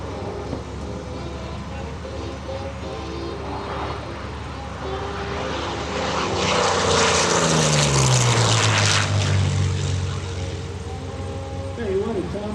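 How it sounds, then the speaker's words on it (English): A P-40 Warhawk warplane flies low past an airshow crowd, its propeller engine droning and swelling to a loud pass before the pitch drops as it moves away, with an announcer talking over it. "From the left, Thom Richard, the P-40 Warhawk."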